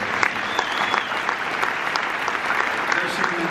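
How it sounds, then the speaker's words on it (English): An audience at a Canadian Red Cross humanitarian award event applauds steadily, a dense, loud, sustained clapping from a crowd in a hall with no pauses. "one more round of applause for all of them."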